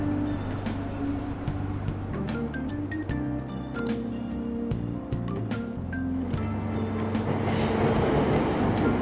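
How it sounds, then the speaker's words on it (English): A train at a station in the video game Persona 5 Royal rumbles and hums with a steady low drone, accompanied by faint rattles and clicks throughout. "Train doors are now closing. Please stand back."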